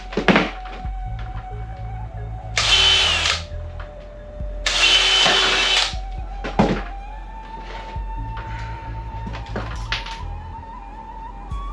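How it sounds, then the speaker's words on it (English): A rivet is set by hand into an RV roof vent in a few sharp metallic thunks and snaps, with two longer loud grinding bursts of the tool, close up, over a steady low hum. "it's just a fun little thing to put a rivet in"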